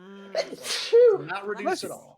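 A single sharp sneeze bursts out loud and close in the middle of a tabletop game session, with people talking before and after it.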